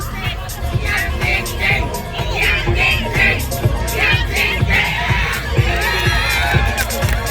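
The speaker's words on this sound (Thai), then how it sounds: "น่าจะเป็นกองเชียร์จากเขาสวนกวางวิทยาทุกูนนะคะ ให้กำลังใจผู้เข้าประกวดของเรานะคะ" Crowd of students cheering and shouting encouragement for contestants at a grilled-chicken beauty pageant in Khao Suan Kwang, with loud, steady whoops and rhythmic cheers from a large group nearby.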